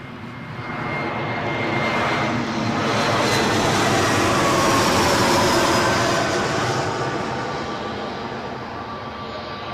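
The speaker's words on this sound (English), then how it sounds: "Looks like we got a very natty Embraer 175." An Embraer 175 jet passes close by at Newcastle International Airport, its engine roar building, peaking loudly in the middle and slowly fading, with no talk over it.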